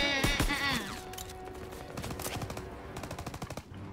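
Rapid bursts of machine gun fire in a first-person shooter game, with loud repeated rattling shots near the start and a steady stream of evenly spaced rounds through the middle and end.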